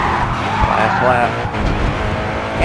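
Car tires squeal and skid through a spin-out in the GRID 2 racing game, a steady loud screech over the engine's roar, with a voice talking along.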